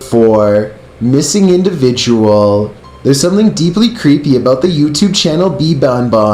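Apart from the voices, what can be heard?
No everyday noises stand out.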